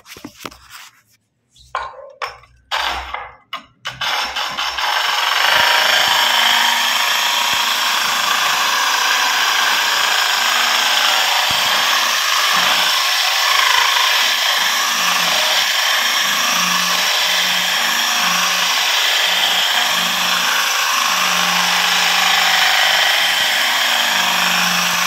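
A power drill fitted with a diamond hole saw bores through ceramic tile, a loud steady grinding whir running continuously after a few short stuttering starts, close by with no talk.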